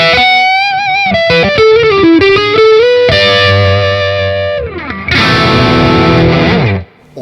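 Distorted electric guitar played through a Friedman amp head on its overdriven channel, loud and close, with ringing sustained chords and a few quick single-note runs, and no voices.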